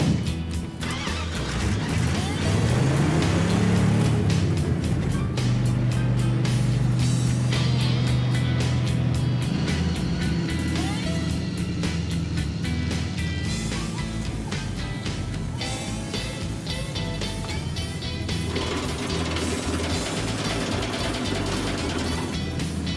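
A hotwired tow truck drives back to the shop, its engine rumbling loudly and continuously with shifting drone and rattles under a busy mix of other sound.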